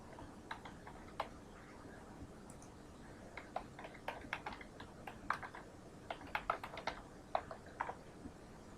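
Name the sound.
typing router commands on computer keyboard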